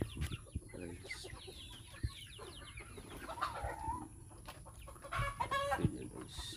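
Chickens cluck in a family poultry yard, a mix of close and distant bird calls scattered across the clip over a steady outdoor background, with a louder burst of clucking near the end.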